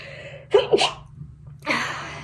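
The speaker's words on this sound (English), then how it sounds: "I feel like I'm gonna sneeze." A single close, loud human sneeze with a quick inhaled buildup, followed by a breathy exhale after a short pause.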